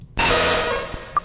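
Muk's cry from a Pokémon video game: a harsh, buzzy electronic screech that cuts in abruptly, holds for about a second, then fades, followed by a short high chime.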